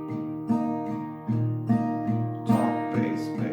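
Acoustic guitar picking a song's pattern with an alternating top-string and bass rhythm, clear plucked notes repeating in a steady pulse, played alone.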